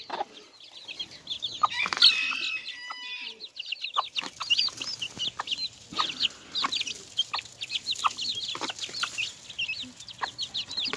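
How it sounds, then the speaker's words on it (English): A hen and her young chicks feed on a bowl of mealworms, with a busy stream of high, rapid peeping and occasional soft clucks. The sound continues nearby without a break and has no speech. "we've got my hen here with her young ones, and I got a bowl of mealworms"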